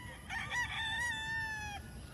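On a big chicken farm in the Philippines at feeding time, a single rooster crows once, clear and fairly close, with a drawn-out final note over low background farm noise.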